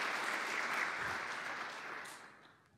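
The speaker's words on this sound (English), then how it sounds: "Petr Strelec, also please applause for him." Steady applause from a conference audience, dense and sustained, gradually fading out toward the end.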